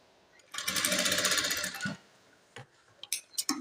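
A sewing machine stitching a blouse runs in one steady burst of rapid, close stitching lasting over a second, followed by a few scattered clicks and taps.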